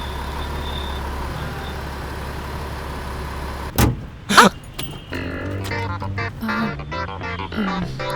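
A car engine as the driver releases the clutch and accelerates: a low steady idle gives way to a couple of sharp knocks, then the engine revs and stutters unevenly, with voices speaking over the later part.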